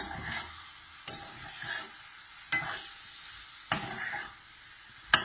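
Tinned tomatoes being stirred into a sizzling pan of jackfruit vindaloo: about five scraping spoon strokes over a steady frying hiss, close up with no voices.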